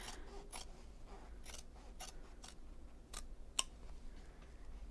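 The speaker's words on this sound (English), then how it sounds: "So I use my scissors." Quiet snipping of scissors through cloth, a few soft cuts spread over several seconds, with one sharper click, close by in a hushed room.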